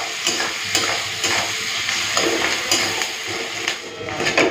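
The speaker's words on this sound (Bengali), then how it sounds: "চলুন প্রথমে পেঁয়াজটাকে লাল করে ভেজে নিই" Onions fry in oil in a pan for egg biryani, a dense steady sizzle close by with repeated scraping stirs of a spoon against the pan and no speech.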